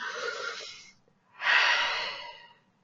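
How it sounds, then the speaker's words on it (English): Two deep, slow breaths, a long airy inhale followed after a short pause by a fuller, louder exhale, close to the microphone, with no talking. "And then breathe."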